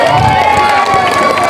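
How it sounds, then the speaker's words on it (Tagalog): A loud, dense crowd roars and cheers at a gay beauty pageant's national costume segment, a continuous wash of voices and applause filling the space. "Ba't di po natin sabay-sabay palakpakan at sigawan"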